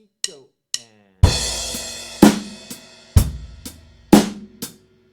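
A drum set plays a groove of hi-hat eighth notes, a snare backbeat and kick drum after two short count-in clicks. The hits are loud, close and punchy, and each one rings out briefly before the next lands in a steady rhythm.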